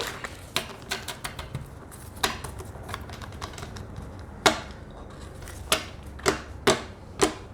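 Crisp, irregular clicks and soft riffling taps of small tarot cards being shuffled up close, in short bursts with pauses between.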